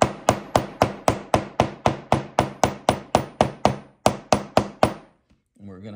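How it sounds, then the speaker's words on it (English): A convex head hammer strikes a leather belt sheath for a Buck 119 knife about fifteen times in a steady, even rhythm of sharp, close knocks, then stops, followed by a brief faint rustle. "As you can see, the convex head hammer."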